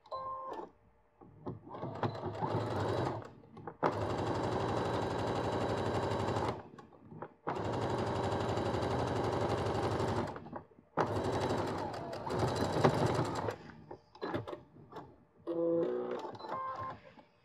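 Sewing machine stitching a zipper onto a fabric pouch, running in several long, steady bursts of rapid mechanical chatter separated by short pauses, close and clear.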